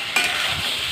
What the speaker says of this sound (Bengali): মরিচ বাটা দিয়ে আমি কিছুক্ষণ এরকম নেড়ে চেড়ে নেব